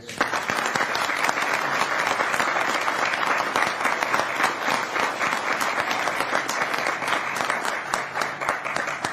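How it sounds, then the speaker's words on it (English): A city council chamber audience gives a round of applause during a proclamation for a coach and team, sustained even clapping from many hands that holds steady throughout. "Would you please join us in giving a round of applause?"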